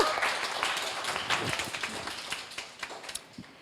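An audience at an indoor talk event claps, producing a soft, fairly distant patter of applause that thins out toward the end.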